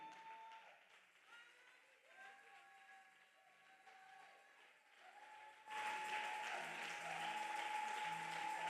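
A church congregation applauding, starting as faint scattered sound with a sustained tone, then swelling abruptly into loud, steady, dense clapping that carries on to the end.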